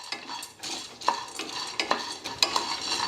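Roasted gram being stirred in a warm pan with a utensil, a close, dry rustling scrape in a steady rhythm with faint sizzling and occasional clinks.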